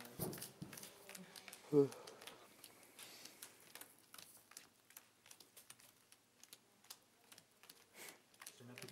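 Rapid, crisp clicking and flicking of sleeved Pokémon trading cards being shuffled at a tournament final, repeating in quick bursts, with quiet voices talking in the background.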